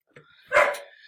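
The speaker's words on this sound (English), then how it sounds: "My dog was just being annoying." A pet dog barks once sharply indoors after a faint yip, a single close bark that tails off, with no clear talk over it.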